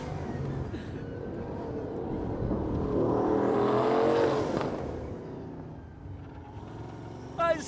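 A Bugatti Bolide hypercar, 1600 hp, blasts down a track straight, its engine roaring in a sustained, rising drone that swells to a peak and then eases, heard from inside under steady wind and road rumble.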